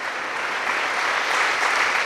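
Congregation at a church faith convention seminary session applauding, a steady dense roar of many hands clapping throughout, loud and close, with no pauses.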